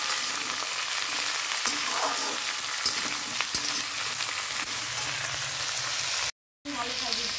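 Vegetables (flat beans, potato, aubergine, radish and green chilli) frying with salt and turmeric, a steady close sizzle with occasional scraping stirs, alone without talk.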